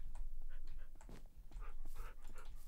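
A Minecraft dog whimpers in the game, a series of short soft high yips and whines at low volume, repeating irregularly over a quiet background.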